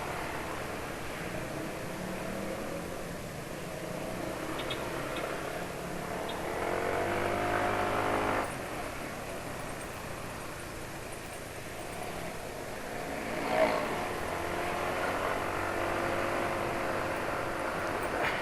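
Honda PCX 160 scooter engine running with a rough, coarse tone, a steady drone that swells and revs up in a couple of surges, heard up close with a hissy background.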